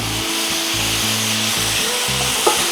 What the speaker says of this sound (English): I got some minced garlic I'm going to put in here. And we're going to just cook the minced garlic.